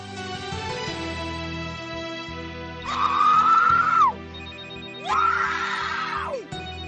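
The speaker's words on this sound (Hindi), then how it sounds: "It's ringing, but she's not answering," An unanswered telephone rings in a Hindi TV drama, sounding in two long trilling bursts with a short gap between them, over a steady low musical background.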